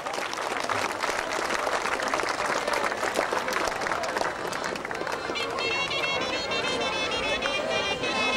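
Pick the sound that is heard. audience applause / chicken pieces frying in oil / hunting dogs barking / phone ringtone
audience applause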